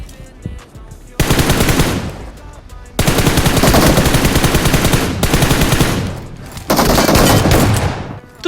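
Loud video-game gunfire: long bursts of rapid automatic shots, close and continuous, broken by short gaps between volleys.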